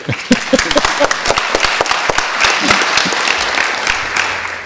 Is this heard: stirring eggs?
no